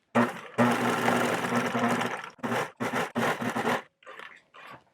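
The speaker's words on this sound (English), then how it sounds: "I'm gonna start sewing here, go all the way around it, and leave a little opening" A sewing machine stitches around a piece of fabric for clothing, a close, loud rapid whirring run of about two seconds followed by several shorter bursts and a couple of fainter ones, with pauses between.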